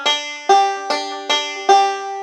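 A close banjo lick with a hammer-on: five sharp, bright plucked notes in an even rhythm, each ringing briefly before the next.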